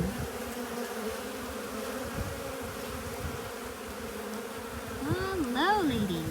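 Honeybees buzz in and around a hive in a steady, droning hum, joined near the end by a closer bee whose rising and falling whine passes by.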